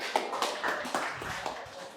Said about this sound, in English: Come up here so we can give it an applause.